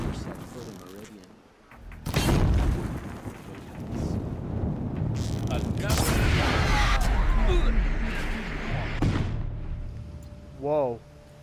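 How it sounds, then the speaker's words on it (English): A loud explosion in the video game Horizon Zero Dawn bursts in with a deep rumbling boom, followed by a sustained roaring blast and crackling debris, then fades with a smaller thud near the end. "I was not expecting this explosion."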